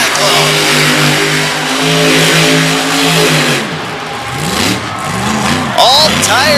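Monster truck engine roaring and revving hard as the truck spins cyclones on dusty pavement at a Radford, Virginia show, loud sustained throttle rising and falling, with an announcer talking over it.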